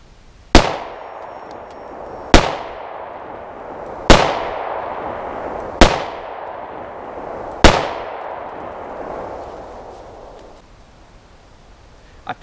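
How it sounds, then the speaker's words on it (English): Five sharp, loud shots from a Smith & Wesson Model 36 revolver firing .38 Special +P 125-grain semi-jacketed hollow points, spaced about two seconds apart, each followed by a short ringing decay, with no voices. "I fired 5 shots and all 5 went through the windshield"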